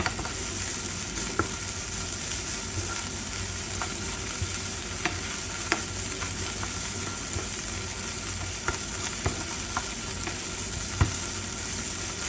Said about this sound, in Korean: 노릇노릇해질 때까지 충분히 양파를 볶아주시고요.